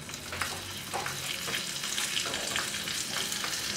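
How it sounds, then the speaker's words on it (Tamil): Cashews and raisins crackle and fry in hot ghee in a pan for a Saraswathi Puja offering, a steady close sizzle with scattered stirring scrapes and pops, and no voices. "இப்போ முந்திரி திராட்சை வந்து நெய் விட்டு வறுத்து எடுத்துக்கலாம்"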